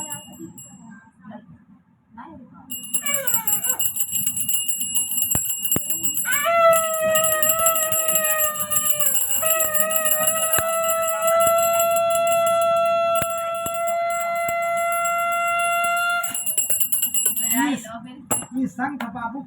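A small conch shell (shankh) is blown in a long sustained tone that wavers and shifts pitch partway through, over background clinking and bell-like ringing with voices at the start and end.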